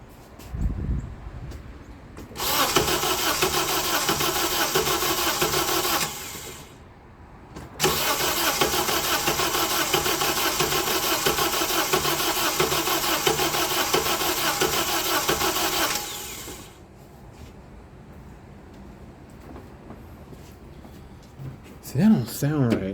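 A Honda engine with starter fluid sprayed in cranks loudly in two long bursts with a brief pause between, turning over without catching, then dropping to a quieter hum, with a person speaking faintly near the end.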